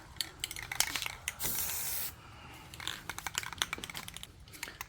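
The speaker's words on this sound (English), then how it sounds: "Feel like I have to spray it further back." Spray paint hisses onto a steel fuel tank from an '87 Chevy Squarebody in a home garage, one long continuous burst in the middle framed by quiet clicks and rustling handling noises before and after.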